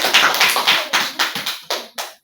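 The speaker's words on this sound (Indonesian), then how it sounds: "Kita berikan tepuk tangan untuk" Small group clapping hands in a classroom lesson, about a dozen distinct, fairly loud claps in an uneven rhythm, close by, ending quickly.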